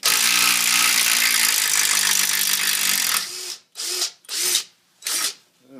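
A Dewalt DCF885 impact driver backs out a lag bolt, starting with about three seconds of loud continuous rapid hammering, then three short separate bursts as the bolt comes free, close and with no talk.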